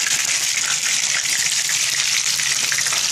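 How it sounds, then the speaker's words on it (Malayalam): Banana slices fry steadily in a shallow layer of coconut oil, giving a dense, even, close-up sizzle that holds without pause and has no voices over it. "ഇനി നമുക്ക് ഇത് വെള്ളത്തിൽ നിന്നും പിഴിഞ്ഞെടുത്ത് വെളിച്ചെണ്ണയിൽ നല്ല കോക്കനട്ട് വെളിച്ചെണ്ണയിൽ ഇതുപോലെ വറുത്തെടുക്കണം."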